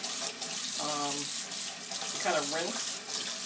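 Tap water runs steadily into a kitchen sink as vegetable leaves are rinsed, a continuous close splashing hiss with a person talking over it.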